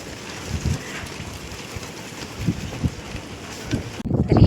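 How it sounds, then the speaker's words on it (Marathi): Strong wind on the climb up Girnar mountain toward Guru Shikhar, a constant roaring rush with heavy buffeting gusts on the microphone that grow louder near the end. "जसं जसं वरती आपण येतोय तसं तसं वारा खूप आहे."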